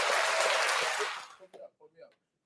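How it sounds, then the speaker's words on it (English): A short burst of applause for a new team member, loud and dense for just over a second before it trails off into a few scattered claps and quiet gaps. "So I just want to clap it up for Sean"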